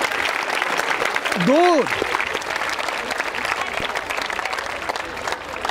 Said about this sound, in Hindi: अंजलि जी के लिए तालियां जोरों से बजाइए आप।